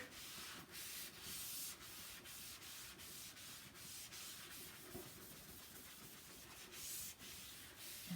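A chalk eraser rubbed over a lightly spritzed surface makes a faint, dry scrubbing with regular strokes, close by and steady throughout, with no voices.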